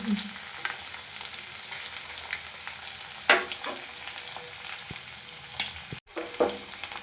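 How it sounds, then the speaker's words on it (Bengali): Prawns frying in oil in a pan on their second side: continuous close sizzling with scattered pops, a few utensil scrapes and stirring knocks, and a brief dropout near the end. "অন্য সাইডটা একটু ভালো করে ভেজে নেব একটু ভেজে নেব"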